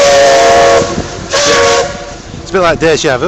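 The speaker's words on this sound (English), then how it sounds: "the steam bus." The Elizabeth steam bus in Whitby sounds its whistle in loud bursts close by. Someone speaks briefly between the blasts.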